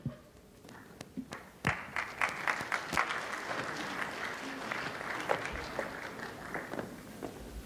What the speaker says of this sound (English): One more round of applause for Mohsen Uncle.